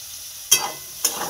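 Soybean chunks fry in a pan for a home-cooked soybean and potato curry, with two short bursts of sizzling and stirring, close and clear, separated by a quiet pause.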